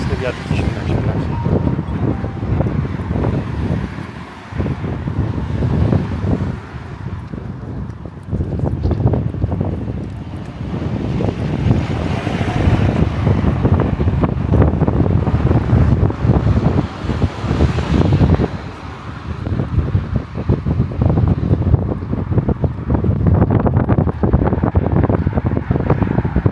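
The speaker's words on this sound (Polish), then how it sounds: "Strasznie mocny wiatr dzisiaj na świecie." Strong wind roars and buffets the microphone in heavy gusts throughout on a seaside walk in Dziwnów, with faint talking partly buried underneath.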